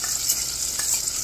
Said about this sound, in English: Nice, sizzling, hot butter.